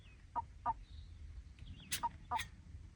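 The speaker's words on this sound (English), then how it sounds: "We got some bird right here." A bird calling on San Gorgonio Mountain, giving four short, clear chirps in two pairs, moderately near, against a quiet outdoor background with faint low rumble.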